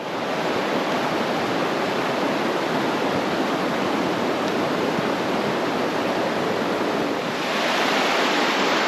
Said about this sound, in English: That means this is the official river crossing location, 2-mile marker.